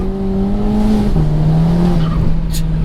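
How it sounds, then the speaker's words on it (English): Tires of a 417 bhp Volkswagen GTI Edition 30 hatchback losing traction, a loud sustained squeal with shifting pitch layered over steady engine roar, no talking. "There you had the traction noise"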